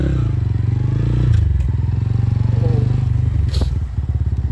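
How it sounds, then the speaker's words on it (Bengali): A TVS Ronin 225 motorcycle's exhaust thrums steadily while being ridden, its low pulsing engine note continuous and close, with light clatter and scraping mixed in and a brief rise in revs partway through. "তো এর সাইলেন্সার আওয়াজ ভাই মাশাআল্লাহ খুব সুন্দর"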